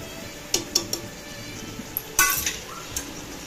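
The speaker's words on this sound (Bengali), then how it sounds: "এবার নেড়ে নেব।" A spoon stirs chilli powder, garam masala and khichdi spice mix into masala khichdi in a cooking pot, giving a few sharp metallic clinks and scrapes against the pot over a faint sizzle, with one louder clatter midway.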